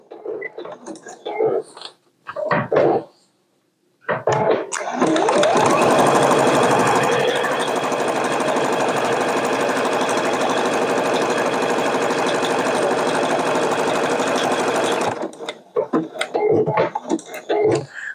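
A sewing machine stitches appliqué on a flag quilt block in one steady, loud, continuous run of about ten seconds, with soft talk before and after it.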